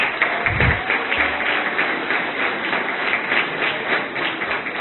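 Audience applause for a guest at an autumn colloquium in Veracruz, a steady, continuous wash of clapping from a crowd, fairly loud and filling the room with no talk over it.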